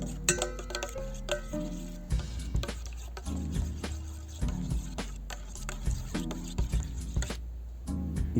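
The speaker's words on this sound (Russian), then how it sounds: "Томатную пасту со сливочным маслом нужно перемешать до однородной консистенции." Utensil stirring tomato paste with butter in a pan, scraping with a soft sizzle, clinking of a spoon against metal, steady and close with no talking.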